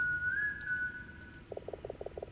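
A rat character in the game Ghost of a Tale whistles a melody: a long, steady held note followed by a quick run of short, bright pulsed notes, clear and close over quiet ambience.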